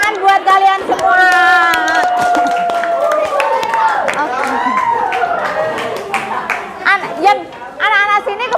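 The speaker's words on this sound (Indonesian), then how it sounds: "Oke, tepuk tangan buat kalian semua." Children in a classroom clap and chatter together, a lively burst of group applause mixed with young voices calling out, loud and close throughout.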